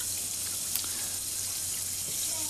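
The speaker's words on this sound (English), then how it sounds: "I am just running some cool water over it to cool it down" Cool water runs steadily from a tap over a freshly welded metal office chair part, a continuous close splashing hiss with no talk.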